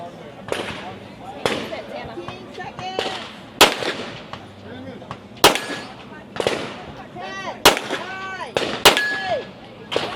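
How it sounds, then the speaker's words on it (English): During a women's tactical shooting competition stage, sharp gunshots ring out at steel targets, roughly eight loud cracks spaced irregularly, each followed by a bright metallic ring, with voices audible in between. "Last round here, 5 shots on steel."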